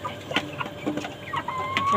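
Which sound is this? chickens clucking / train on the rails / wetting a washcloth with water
chickens clucking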